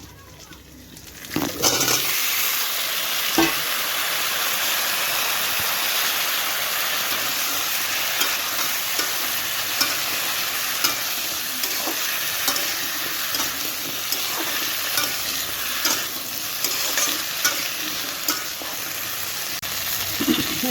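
Taro and potatoes frying in a pan of hot oil, a loud, steady, close sizzle that starts abruptly after a quiet moment and continues with small pops and stirring clicks, and no clear talk over it.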